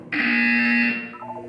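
A loud, harsh electronic buzzer in the game Portal sounds once for about a second, then cuts off, leaving a brief faint tail.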